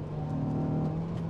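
Honda Civic Type R FN2 with a K20 engine held high in the revs near 8000 rpm, giving a loud, sustained, steady whine with no break.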